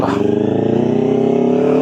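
A Kawasaki Ninja motorcycle engine drones steadily nearby on a scenic road, a loud continuous rumble with a faint rise in pitch and no talk over it.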